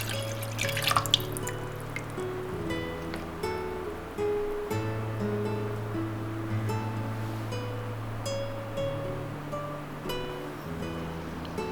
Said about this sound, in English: Pour water into the pot.